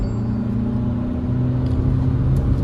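A Mahindra XUV 3XO turbo engine pulls hard in third gear during a drive, a steady low droning rumble with a faint whir, heard from inside the car without talking.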